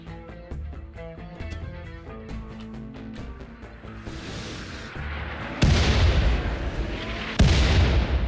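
Colonists firing weapons in the colony-management game RimWorld: a run of rhythmic, clicking impacts over a musical background, then two heavy, loud booming shots near the end.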